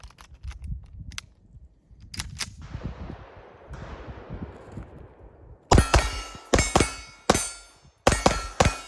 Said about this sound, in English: You'll notice a small stovepipe, a quick clear, and continued shooting.